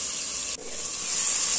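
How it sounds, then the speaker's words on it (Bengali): Onion paste hitting hot oil that already holds dried red chillies, a steady broad hiss with a brief dip partway through before the sizzle swells and grows brighter. "দিয়ে দিচ্ছি হাফ কাপ মতো পেঁয়াজ বাটা"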